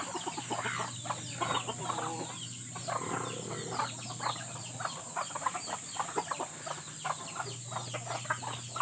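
Native chickens cluck and chatter continuously in a farmyard, a busy flock of short, overlapping calls at moderate distance over a steady high background buzz of insects.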